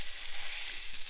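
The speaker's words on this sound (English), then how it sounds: "So get a nice little sizzle." Bacon-wrapped duck sizzles steadily in a hot cast iron skillet, a bright, crackling hiss held close and loud with no voices.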